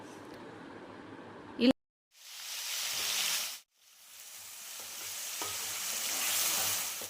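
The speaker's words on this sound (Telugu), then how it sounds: "ఉల్లిపాయ, పచ్చిమిర్చి, కొబ్బరి 3 కలిపి చేసుకున్న పేస్ట్ వేసుకుందాం. ఈ పేస్ట్ని మనం బాగా వేగనివ్వాలండి." Onion, green chili and coconut paste frying in hot oil for a mutton gravy curry, a steady broadband sizzle that surges twice after brief pauses, loud and close, with faint stirring and low background hum.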